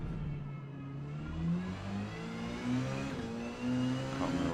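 Porsche 919 Hybrid race car engine in Forza Motorsport at the Kyalami circuit, with continuous engine tone rising and falling through gear changes and braking, loud and close.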